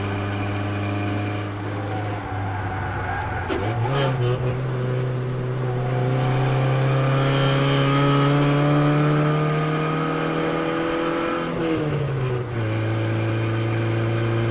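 A 30-year-old Toyota Celica engine held at full throttle while climbing a steep forest highway, a steady strained drone with one upshift-like drop in pitch near the start and another near the end, loud and close with road noise.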